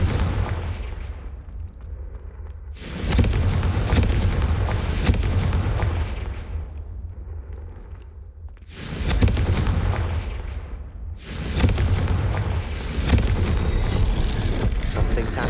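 Confringo fire spell blasts in the Hogwarts Legacy video game, loud booming explosions with long rumbling tails repeating roughly every few seconds, alone without talk.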